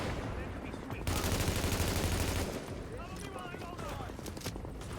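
Sustained light machine gun fire in a video game, a dense rattling burst that swells loudest through the middle, then continues as scattered shots under game noise.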